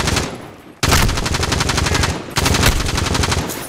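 Video-game automatic gunfire empties a full magazine at a trapper enemy, rapid bursts of shots in two long strings separated by a brief pause, loud and close with no talk.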